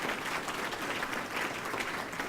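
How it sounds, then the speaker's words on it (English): Conference audience giving a continuous round of applause, a dense, even wash of many hands clapping with no gaps or talk. "Give him a round of applause."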